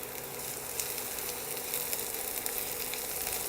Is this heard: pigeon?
no